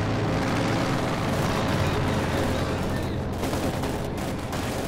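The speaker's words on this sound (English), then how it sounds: "Panther's moving in. Panther's firing." Panther tank firing in the Company of Heroes 2 video game, its cannon blasts buried inside a dense, constant roar of battle gunfire and explosions that stays loud throughout.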